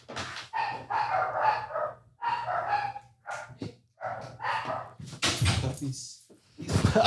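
Puppies bark in a series of short, close, fairly loud yelps in irregular bursts over several seconds, with a voice speaking among them.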